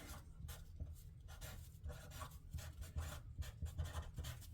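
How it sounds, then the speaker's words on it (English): A pen scratches steadily across paper as notes are jotted down, producing soft, close strokes in short bursts with brief pauses between them. "I'll just write that down here"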